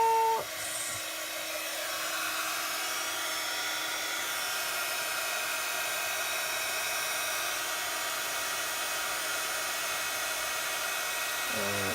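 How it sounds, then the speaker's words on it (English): A heat tool blows steadily over copper embossing on a Christmas card, a loud, constant whirring hiss that runs unbroken for about twelve seconds with no speech. "we just need my heat tool and we can watch some magic happening"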